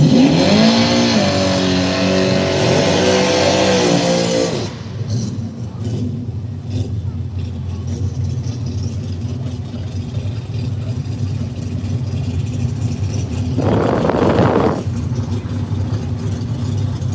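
Drag race cars rev at an arm-drop street race, one engine blaring loud and steady before cutting to a rough, rumbling idle that lasts several seconds, then a short burst of throttle rises again near the end.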